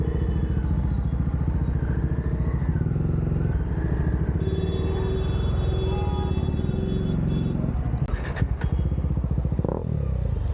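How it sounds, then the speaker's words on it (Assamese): A Bajaj Dominar 400 motorcycle with its dB killer removed gives a loud, steady exhaust rumble throughout, with brief sharp clatters near the end. "ফাইনেলি ডিবি কিলাৰটো উলিয়াই দিলোঁ। এতিয়া চাউণ্ডটোতো এপিক আহিব।"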